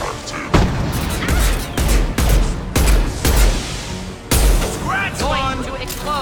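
Repeated heavy gunfire and booming blasts in the video game Mass Effect 2, loud and close in a rapid series, with a voice speaking over the shots.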